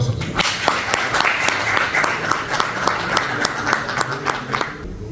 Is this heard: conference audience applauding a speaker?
yes